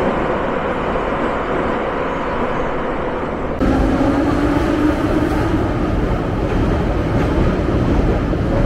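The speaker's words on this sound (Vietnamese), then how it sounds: "Bây giờ mình đang ở trên một cái tàu điện ngầm." A subway train in Ukraine rides along with a loud, continuous rumble and rolling roar heard from inside the car. The noise steps up in intensity partway through and then holds steady.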